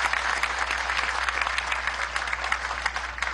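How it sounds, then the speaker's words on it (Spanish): A crowd at a public event in Venezuela applauds the women, a steady burst of clapping with a low constant hum beneath it and no voices on top. "Un aplauso a las mujeres"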